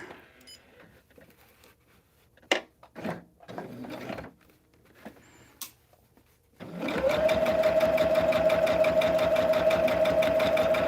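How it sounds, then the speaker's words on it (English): A sewing machine stitches quilt blocks in a steady, continuous mechanical whir. It starts after several seconds of quiet handling noises and light clicks. "All right, let's sew this."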